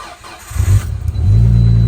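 A Nissan Skyline with a flat battery cranks on a jump booster pack, then catches and settles into a loud, close idle with a strong low rumble.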